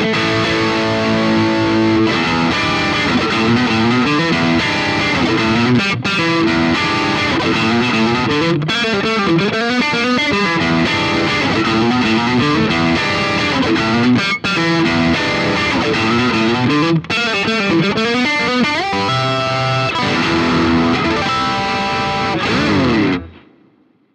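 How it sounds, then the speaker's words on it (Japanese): Heavily distorted electric guitar chords played through a BOSS GT-1000 processor on its Marshall amp model with maximum gain switched high, ringing full and bright, loud and continuous before cutting off at the end. "歪んでてもねなんかちゃんときらびやかでなんかコードの響きがしっかりなりますね"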